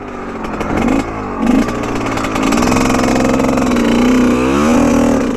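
GasGas motorcycle engine running on a break-in ride, a steady mid-pitched drone close by with small throttle changes and mild rises in pitch, held back rather than revved hard.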